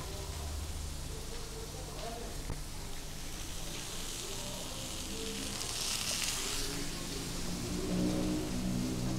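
Sliced tofu sizzling in a frying pan, a steady crackling hiss that persists throughout at moderate level with faint background sound.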